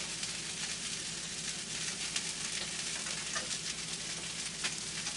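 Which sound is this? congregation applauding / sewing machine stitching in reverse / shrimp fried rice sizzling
shrimp fried rice sizzling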